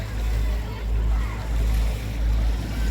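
Surf rolling onto a beach in the Netherlands, steady low wash with slow swells rising and falling, mixed with wind buffeting the microphone.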